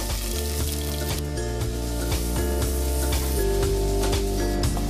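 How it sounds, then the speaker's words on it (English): Red onions, garlic, ginger and chili peppers sauté in oil and butter for kedgeree, a steady sizzle filling the pan with stirring clatter on top and music playing underneath. "dices red onions, garlic, ginger, and chili peppers and sautés them in oil and butter"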